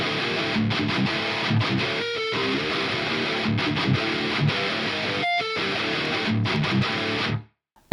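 Virtual guitar instrument riff in an alternative rock style using key switches, a continuous distorted, chugging riff with rhythmic palm-muted stops, loud and steady throughout, ending abruptly near the close.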